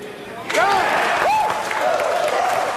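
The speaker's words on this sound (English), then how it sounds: "the rest of the staffers in the war room seem to have been rooting right along with him as the crowd starts cheering" Staffers in a military war room cheer together in a burst of voices and clapping that rises abruptly and holds steady, with a few raised shouts standing out over the noisy crowd.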